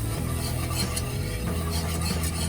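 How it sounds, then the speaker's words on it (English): A roux of flour and fat is stirred in a pot for lobster corn chowder, a steady, dense scraping and sizzling texture that holds at an even level throughout. "Just stir it so that nothing burns."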